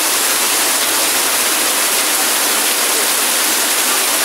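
Torrential rain pours down during a flood in a residential barangay, a dense, unbroken roar of water that stays loud and steady throughout, with no voices.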